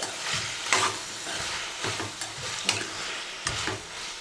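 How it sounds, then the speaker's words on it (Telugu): Onion, spice and cashew base for a dhaba-style kaju paneer butter masala is stir-fried in a pan, a steady sizzle broken by repeated scraping strokes of the spoon about once a second. "జస్ట్ పచ్చి వాసన పోయే వరకు ఫ్రై చేద్దాం"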